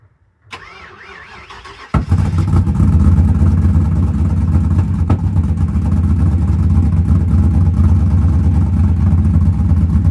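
A car engine with a $13 eBay muffler starts, then runs loud and steady close by, its deep exhaust drone holding through the rest of the clip with no talking.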